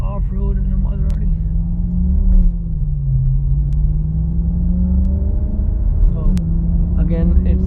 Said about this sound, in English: I feel like I'm going off-road in a Maserati